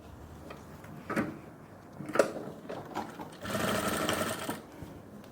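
After a few handling clicks and knocks, a sewing machine runs in one short, close burst of about a second, stitching the side seam of a pair of ladies' pants.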